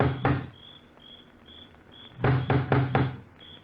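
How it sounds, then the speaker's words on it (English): A huge knocker strikes a front door at the top of wide stone steps, with one heavy knock followed later by a cluster of four loud knocks, close and hollow, while crickets chirp steadily behind. "He looks about uneasily, then lifts the huge knocker on the door."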